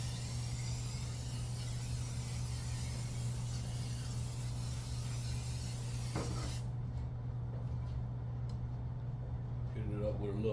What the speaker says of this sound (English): Hit it up with a little olive oil spray.